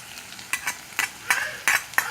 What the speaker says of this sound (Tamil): இஞ்சி பூண்டு 3 போட்டு நல்லா கிண்டணும்